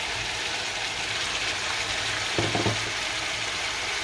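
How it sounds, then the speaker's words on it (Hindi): Chicken and vegetables fry in a pan with a steady, close hiss under a low hum, broken by a short clattering stir of the pan midway. "सब्जियों को भी अच्छी तरह भून लेंगे।"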